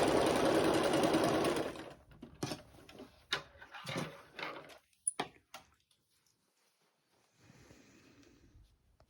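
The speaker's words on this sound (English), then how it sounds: "Be sure and back stitch of the front and the back of the seam." A sewing machine back stitches a seam, starting with a close, loud two-second whir, then giving several short bursts of stitching and faint handling sounds.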